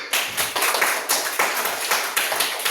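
A classroom of children clapping hands together in a rhythmic, steady pattern of repeated bursts, moderately loud and close, with no talking over it.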